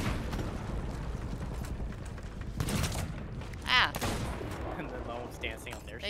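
Gunfire in the pirate video game Sea of Thieves, one loud sharp shot standing out over steady game ambience and low rumble, with faint people talking underneath.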